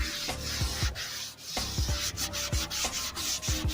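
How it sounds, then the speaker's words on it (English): Sanding patina spray paint on a 1969 Chevy C10, a close, scratchy rub repeated in quick back-and-forth strokes with short pauses between passes, loud and steady with no talking. "this stuff sands pretty quick"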